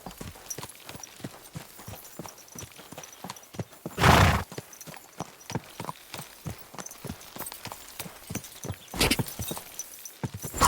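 Horse hooves clip-clop in a steady rhythm as a rider travels in Kingdom Come: Deliverance II, with a loud neigh cutting in partway through and another near the end.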